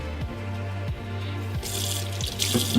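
Water runs from a tap into a sink, a steady splashing stream close by, with a rhythmic low hum pulsing underneath.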